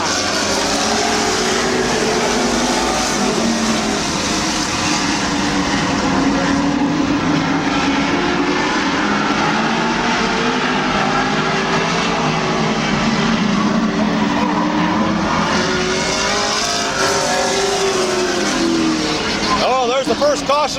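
Stock cars racing across the line at Midvale Speedway, a loud continuous engine roar that rises and falls as the pack passes, with a voice talking over it throughout.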